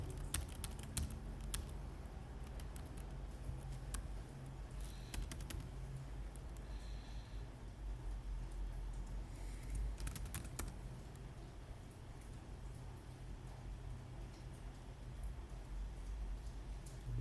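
Someone types a test Stripe card number on a computer keyboard, a quiet run of irregular key clicks with short pauses between bursts.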